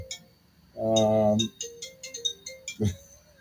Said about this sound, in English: it's like we got a phone call